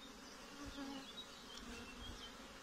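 Honey bees hum steadily in a crowded hive during a spring varroa treatment, a faint, even buzzing drone with occasional louder passes of single bees.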